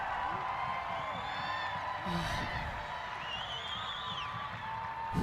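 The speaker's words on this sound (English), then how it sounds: "The crowd's going wild." Stadium crowd at a Northern Super League women's soccer match between Calgary Wild FC and Montreal Roses FC, a steady roar with whistles and shouts, under a commentator's voice.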